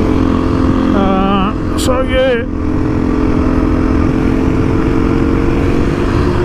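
A Beta 390 RR Ultralite ADV dirt bike idles and runs nearby with a steady, rough engine drone throughout. A person speaks briefly over it near the start.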